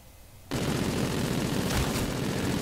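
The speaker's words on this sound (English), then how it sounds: "I'm going to use this noob tube over there see if I can get anybody" A grenade launcher fires in the shooter game Infinite Warfare during a Reinforce match, a sudden loud blast followed by a dense rumbling roar of gunfire and explosions, with no speech.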